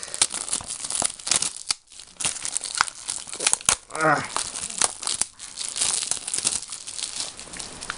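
Plastic film wrap being peeled off a New Super Luigi U video game case: close, steady crinkling and crackling with sharp tearing snaps, while someone talks over it.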